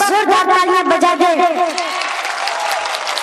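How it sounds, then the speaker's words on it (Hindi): A mushaira crowd bursts into loud, dense applause and cheering from front to back, sustained claps filling the hall and slowly thinning toward the end. "मैं चाहता हूँ कि आगे से लेकर पीछे तक पूरा मजमा एक बार जोरदार तालियां बजा दे।"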